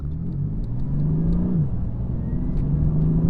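A BMW F80 M3 accelerates while driving, its engine rising in a smooth, continuous drone, dipping briefly at a gear change and then climbing again, close and fairly loud with no talk.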